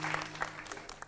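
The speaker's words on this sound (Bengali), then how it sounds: "সেই জন্য আবার জোরে একটা হাততালি।" A studio audience at a comedy show gives a short burst of applause, with dense clapping heard fairly close and steady throughout.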